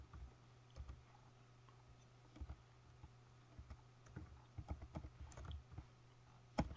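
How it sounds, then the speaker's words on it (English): Quiet keystrokes tap on a computer keyboard in irregular bursts, soft and close, over a faint steady hum with no talking. "I'm going to type in"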